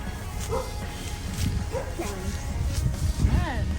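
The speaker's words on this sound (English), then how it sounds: "The dog, them a bark, you know." Dogs bark and yip repeatedly at moderate distance outdoors, mixed with some whimper-like cries, while people talk over them throughout.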